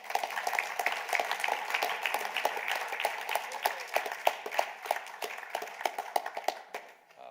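A small poetry-reading audience applauds after a poem, a steady patter of hand claps lasting several seconds, moderately close, then tapering off into quiet at the end.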